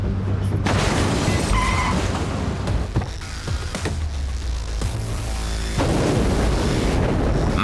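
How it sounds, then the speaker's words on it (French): A pressurized gas bottle explodes inside an engine, giving loud broadband booming blasts with a sharp burst near the start and another later, separated by rumbling, crackling noise. "Ah oui, c'est clairement une explosion."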